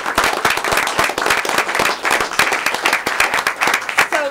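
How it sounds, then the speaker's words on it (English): Loud, close applause fills a city council meeting chamber, with distinct sharp claps from nearby hands standing out over the sustained crowd clapping, and a voice surfacing near the end. "Let's give them all a round of applause."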